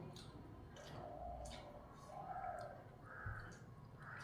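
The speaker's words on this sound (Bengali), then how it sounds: "তোমার পাখির ডাক শুনতে পাচ্ছ" Faint, distant birds call a few times, harsh caw-like cries spaced out against a quiet outdoor background.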